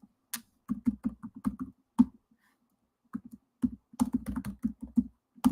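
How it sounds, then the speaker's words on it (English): Keys on a computer keyboard typed in close, quick bursts of clicks separated by short pauses, recorded alone without any voices. "So let me just type that out."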